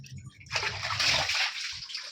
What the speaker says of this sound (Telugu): ఆన్ చేసినా కూడా ఒక్కొక్కసారి అట్లా ఆఫ్ చేసినా కూడా పోతూనే ఉంటాయి వాటరు ఇలా